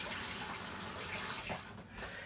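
Hot water running steadily from a kitchen tap, a continuous broadband rush that briefly dips and resumes, close and fairly loud with no talking.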